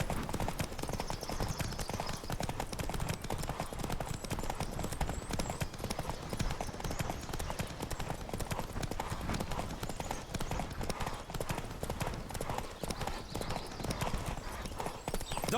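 Horse hooves pound in a rapid, steady clip-clop rhythm throughout a horse race in the video game The Witcher 3: Wild Hunt, loud and continuous with faint game ambience behind.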